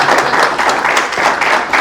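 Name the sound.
applause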